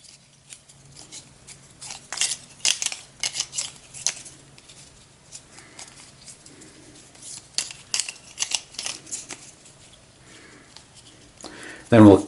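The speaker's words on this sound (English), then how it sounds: "So we'll shuffle up the Winter Squall tokens." Cardboard Winter Squall tokens for the board game Fate of the Elder Gods are shuffled by hand in quick, irregular papery rustles and clicks, close up, with a louder clatter at the very end.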